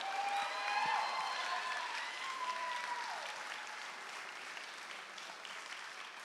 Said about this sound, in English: Can we give a big hand to the parents of the bride and the groom, Jeff and Lisa Cook, Beth and Perry Dazzo.